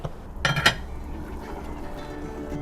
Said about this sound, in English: we're going to add our mushroom soup now. Just to thicken up the sauce